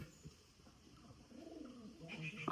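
Pigeons coo softly in a loft where many birds sit on eggs and chicks, low throaty calls rising toward the end against a quiet background with no talking.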